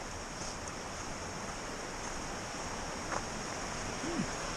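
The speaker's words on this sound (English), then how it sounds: "Rapids." River rapids along the Appalachian Trail rush in a steady, dense roar of moving water that fills the scene evenly, with a faint wind-like hiss and no voices.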